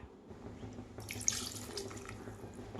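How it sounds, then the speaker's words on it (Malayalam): Water is poured into a bitter gourd masala curry, a quiet splashing trickle that grows briefly louder in the middle, close by in a hushed kitchen. "കുറച്ച് വെള്ളം കൂടി ഒഴിച്ചു കൊടുത്തിട്ടുണ്ട്"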